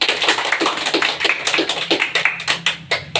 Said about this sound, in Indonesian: Beri aplaus pada Rohit